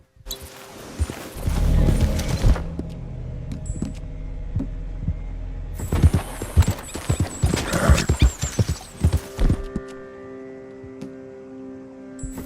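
Horse hooves clip-clop in quick rhythmic bursts in Red Dead Redemption, with a whinny and game background ambience; the hoofbeats stop, then resume louder after a pause.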